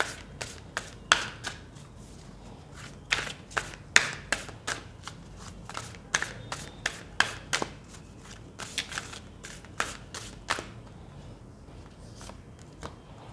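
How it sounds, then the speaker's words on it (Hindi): Tarot cards are shuffled close by in quick bursts of crisp riffling and slapping, with short pauses between the runs. "जब तक मैं कार्ड शफल कर रही हूँ"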